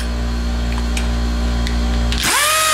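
A pneumatic impact wrench bursts into a loud, high-pitched whir near the end, hammering on a ball joint of a 2010 Nissan Rogue after a steady hum of shop machinery.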